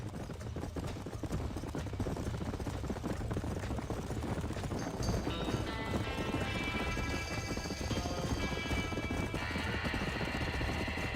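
Hooves clatter steadily under a dense, noisy background in Red Dead Redemption, with a horse whinnying partway through amid game effects, during a barn fire.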